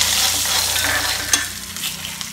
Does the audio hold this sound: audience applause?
no